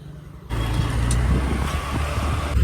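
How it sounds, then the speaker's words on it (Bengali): A car drives along a road. After a brief quiet start, a steady low engine and tyre rumble rises and holds, close and continuous, with wind noise over it. "এখন গাড়িটা চলছে তো একটু হালকা হালকা হাওয়া পাচ্ছি"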